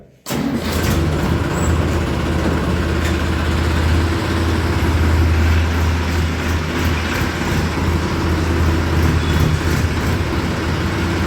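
A farm tractor engine runs steadily and loudly close by, starting up after a brief pause and then holding a constant low rumble throughout, with no voices over it.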